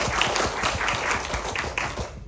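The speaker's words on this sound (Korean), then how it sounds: "박수 한번 쳐주세요" A crowd at a company presentation claps together in a steady, even wash of applause with faint rhythmic thumps underneath, holding at moderate loudness and easing off slightly at the end.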